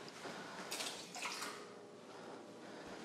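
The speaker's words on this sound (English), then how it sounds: "I have half this bottle filled with water" Water pouring into a spray bottle, half filling it for a vinegar disinfecting solution: a soft, steady splashing trickle with two brief louder gushes early on, quiet and close.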